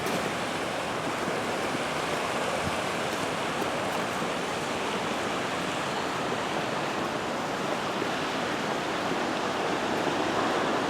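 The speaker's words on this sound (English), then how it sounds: "There's the River Calder." The River Calder flowing through the Calder Valley near Padiham, a constant broad rushing wash of moving water, steady and fairly loud with no pauses or voices.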